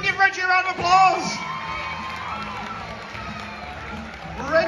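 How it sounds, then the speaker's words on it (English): A studio audience on a game show applauds and cheers for a contestant, with whoops and shouts rising over steady clapping and a voice heard over the noise. "Give Reggie a round of applause"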